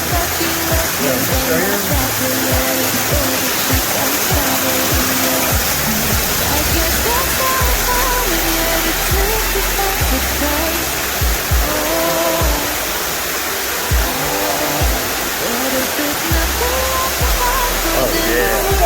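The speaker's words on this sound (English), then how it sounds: "there was a 4-foot waterfall back in here" Small four-foot waterfall splashing inside a cave at Hall's Hollow, a loud, constant roaring rush of falling water filling the space, with people talking faintly beneath it.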